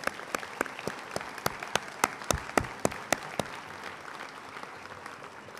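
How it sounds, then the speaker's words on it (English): Applause at a high school graduation ceremony: a crowd claps steadily, with sharp individual claps standing out near the microphone, fading toward the end. "let's give them all a big round of applause."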